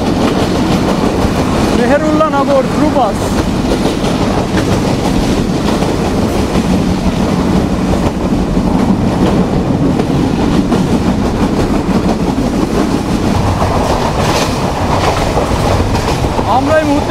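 A loud, continuous rumble of the Sundarban Express speeding between Dhaka and Khulna, wheels clattering over rail joints in a steady rhythm, with a brief voice faintly audible beneath the train noise.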